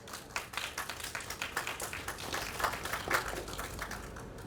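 Scattered, light clapping from a modest audience at a merit award ceremony, soft and somewhat uneven taps spread over several seconds, fairly faint in a quiet hall.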